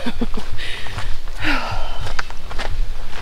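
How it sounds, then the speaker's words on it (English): Heavy, loud breathing from a winded hiker on a 1.5-mile woodland trail to a cave, with close, rough breaths and sniffs alongside faint footsteps, no words spoken. "Sorry for the heavy breathing. I am so out of shape."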